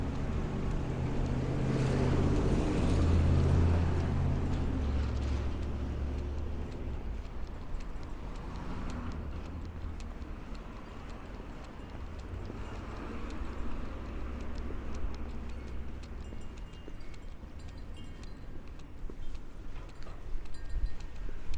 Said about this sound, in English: I don't know if you can hear that wind, but it is really picking up a little bit.